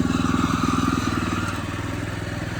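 A HECHT 2650 dumper's small engine runs steadily close by, with a rhythmic, pulsing chug and a slight rattle, loud and unbroken throughout.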